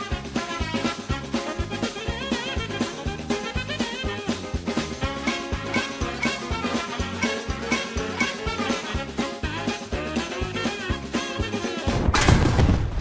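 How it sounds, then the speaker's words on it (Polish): Steady, rhythmic barrage of artillery and shots hitting a tank in War Thunder, continuous and loud for many seconds, ending in a sudden louder burst. "Mnie teraz artyleria wali."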